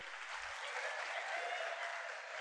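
Young audience members applauding during a stage comedy show, a sustained even burst of clapping heard at a distance, fairly faint but unbroken throughout.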